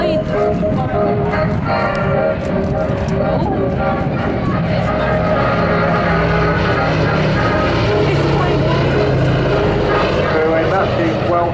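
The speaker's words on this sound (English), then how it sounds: "a massive welcome to the Southport Air Show by one of the most important aircraft still flying in Europe today" Propeller aircraft flying over the Southport Air Show in 2017, a loud, continuous engine drone that holds steady throughout, with voices audible over it.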